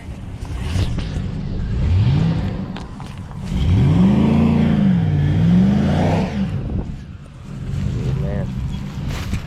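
A car engine with a failed transmission revs hard in repeated rising and falling swells, loud and close, the longest surge holding for a few seconds, while people talk nearby.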